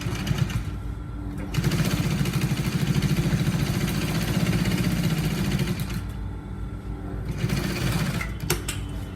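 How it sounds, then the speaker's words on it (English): A sewing machine runs in steady, continuous bursts while stitching the shoulder seam joining a button-up shirt with collar, with a short pause mid-run and a brief voice heard faintly near the end. "So I'm going to stitch the shoulder joining."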